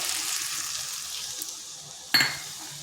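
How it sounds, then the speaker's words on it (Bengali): A steady hiss of frying fills the air, then a sudden louder splash and surge of sizzling as liquid hits the hot pan. "এরপর এখানে দিচ্ছি জল"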